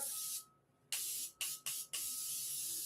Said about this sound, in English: spray, setting spray between every step